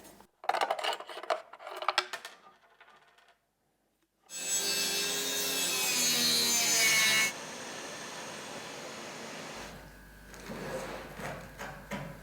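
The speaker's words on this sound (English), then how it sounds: "the metal blade is definitely not made for cutting in wood" A saw fitted with a metal-cutting blade cuts through wood during boat hull planking, giving a loud, steady grinding rasp of about three seconds after some shorter scraping and handling noises, then fading into a quieter hum.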